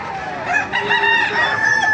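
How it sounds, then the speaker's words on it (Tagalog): A rooster crows loudly and close by, one long strained call lasting about two seconds. "Ayan, napakaamo manok nito."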